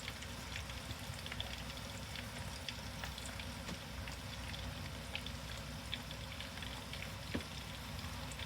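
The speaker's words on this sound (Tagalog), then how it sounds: "Deep fry lang ho natin siya." Chicken karaage deep frying in hot oil makes a faint, continuous crackling sizzle with scattered tiny pops, steady throughout with no talking.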